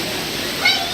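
A waterfall at an amusement park rushes in a constant, broad hiss, close and steady, with a faint voice briefly under it.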